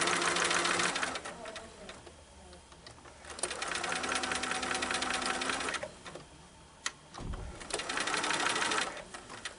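A sewing machine stitches curved fabric pieces for a nine-patch quilt block, running in steady bursts with brief pauses between them. It sounds close and loud, with a light mechanical clatter.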